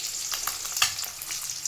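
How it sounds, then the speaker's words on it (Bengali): An egg fries in a hot pan in a home kitchen, giving a steady bright sizzle with small crackles and pops and one sharper spatter midway, close and unaccompanied by talk. "আর এখানে ডিম ভাজা হচ্ছে।"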